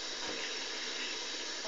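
Tap water runs steadily into a sink during a cat's bath, a dense continuous hiss that holds even and close for the whole short stretch, with no voices.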